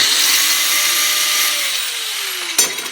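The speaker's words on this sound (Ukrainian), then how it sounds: "нержавійка перевіряється за допомогою моєї улюбленої іскри, тобто ну, болгарочкою перевіряється" An angle grinder spark-tests a piece of stainless steel, giving a steady high whine that slowly drops in pitch as the disc bites, then a sharp clack near the end.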